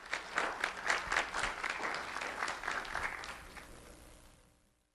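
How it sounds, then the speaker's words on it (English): An audience at a school recognition ceremony claps steadily, a warm, moderate applause that tapers off and fades to silence near the end. "Let's have a round of applause for Jaden Rodriguez"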